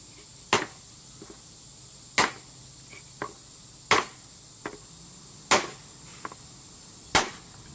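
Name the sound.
hammering aluminum with a hammer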